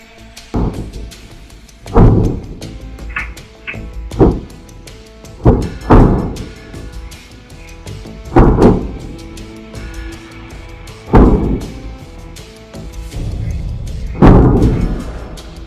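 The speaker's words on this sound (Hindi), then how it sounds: "और तभी धमाकों की आवाजें आने लगती हैं" Explosions at night over a populated area with lit houses, reported as a Hezbollah attack on Israel: a series of about nine heavy booms and thuds at irregular intervals, some sharp and some rolling, fairly loud and distant-sounding, with no talk.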